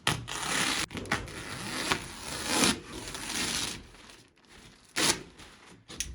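Cutting window openings through Tyvek house wrap on a wall of an off-grid cabin under construction, heard as close, continuous scraping, tearing and rasping with short pauses and a few sharper bursts.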